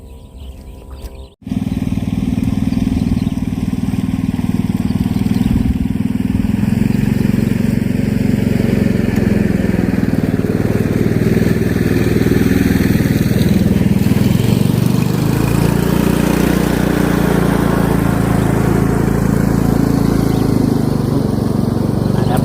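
A passing motorboat engine drones loud and steady for most of the clip, starting abruptly after a brief quiet moment at the beginning, heard while fishing.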